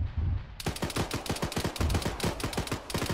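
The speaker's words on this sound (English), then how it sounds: "I can hear shots from that direction." Rapid bursts of gunfire in a military video game set in a Chechen operation, a steady train of sharp cracks that starts after a brief lull and keeps going without letup, fairly loud and not far off.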